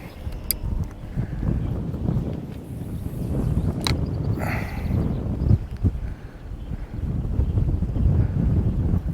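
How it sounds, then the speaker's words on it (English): Strong wind buffets the microphone out on open water during a bass fishing trip, a continuous rumbling roar with gusts that swell and ease, and no talking. "The wind's starting to go pretty good now"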